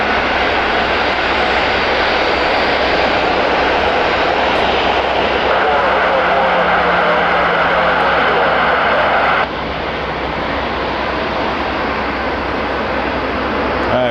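A WestJet Boeing 737-800 at Toronto Pearson Airport, its jet engines producing a loud, continuous broadband roar that holds steady for the whole stretch and eases slightly near the end, with a voice talking over it.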